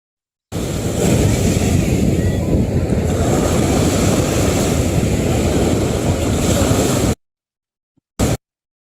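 Ocean waves crash in a steady, dense roar of surf for several seconds, then cut off abruptly, followed by a brief final burst.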